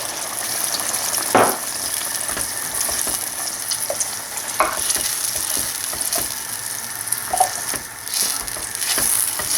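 Chicken simmering in a pan with single cream and chicken broth for a Filipino-style fettuccine Alfredo, giving a steady close sizzle and bubbling hiss with occasional brief stirring clinks.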